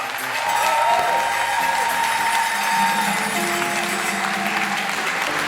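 Crowd applause fills a live show by a musical group, a steady wash of clapping with a faint sustained tone and background hum running underneath, even and unbroken throughout.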